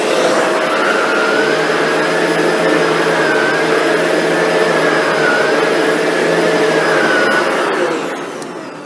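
Shark NV752 vacuum cleaner running on a thick area rug in carpet mode, a loud steady motor roar with a high whine throughout that begins to wind down near the end, no speech.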